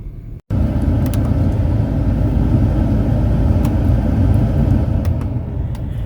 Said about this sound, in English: So I'm back in my car